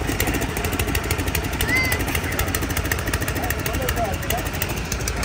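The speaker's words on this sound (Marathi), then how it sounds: "आता आपला ट्रॅक्टर चालू करतोय" A New Holland tractor engine runs at idle with a loud, steady, rapid diesel chug close by, and voices are faintly heard under it.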